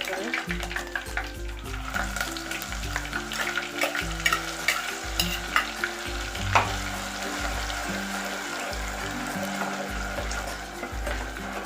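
Ground onion paste frying in oil for chicken gravy, with continuous loud sizzling and repeated stirring scrapes across the pan, and no voices.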